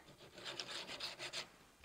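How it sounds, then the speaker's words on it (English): Faint, rhythmic scratchy rubbing strokes of coarse heavy-duty sandpaper on a wooden dresser, about six quick passes in a row. "I've just got some really heavy duty sandpaper here and I'm just sanding it"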